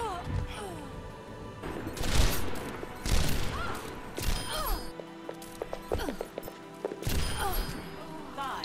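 Gunfire in the video game Overwatch, with several loud, sharp bursts of shots spaced apart over other game noise while people talk.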